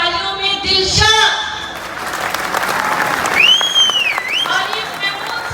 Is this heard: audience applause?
yes